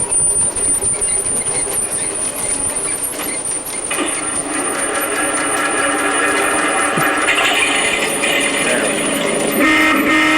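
A model train runs steadily on its track in a garden setting among trees, a continuous close whirring rumble that grows louder partway through, alone without speech.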